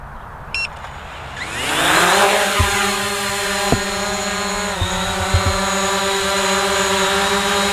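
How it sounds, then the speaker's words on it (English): A Hubsan Zino drone beeps, then its motors spin up into a loud, steady propeller whine with rising and shifting tones as it lifts off and hovers nearby, with a few soft knocks underneath. "I'm gonna hit the takeoff button here."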